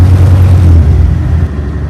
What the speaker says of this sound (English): isn't that a terrible thing to hear, an engine losing all its power